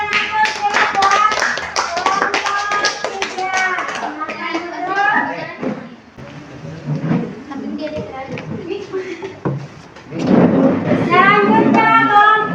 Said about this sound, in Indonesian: Ya, berikan aplaus ya buat